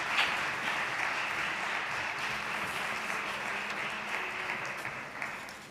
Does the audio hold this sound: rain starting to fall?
no